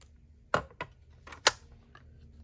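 Scissors trimming craft material at a sewing-themed craft table, three crisp snips at close range with quiet pauses between them and no talking.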